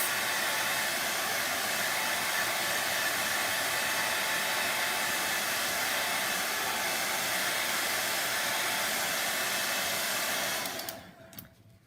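A hair dryer blows a steady, loud rushing whoosh over chalk paint on a stencilled banner, running unbroken for about ten seconds before it cuts off.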